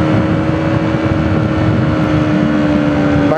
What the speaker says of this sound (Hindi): बाइक आवाज़ कर रही है